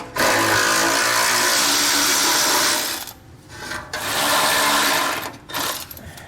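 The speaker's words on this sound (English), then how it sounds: "grab our socket and get this removed" A ratcheting socket wrench loosens a 13 mm nut on a 2021 Ford F-150, giving loud, close, rasping bursts of clicking broken by two short pauses.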